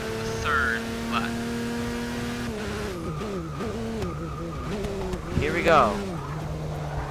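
Audi and Corvette race cars in Forza Motorsport 6 drone along at steady engine pitch, with revs shifting and a brief tire squeal near the end, all under a commentator's voice.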